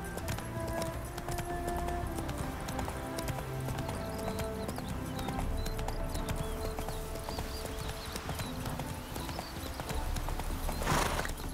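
Witcher 3 horse trotting: steady clip-clop of hooves at an even rhythm, moderately close, over a continuous game ambience with music, with a short bright burst near the end.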